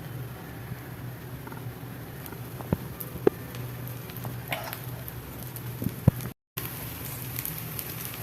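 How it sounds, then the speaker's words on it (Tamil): Horse gram dosa sizzles on a hot pan as a little oil is poured over, a soft steady crackling hiss with scattered faint pops, close and fairly quiet, interrupted by a brief gap. "கொஞ்சமாக நான் எண்ணெய் ஊற்றிக்கிறேன்"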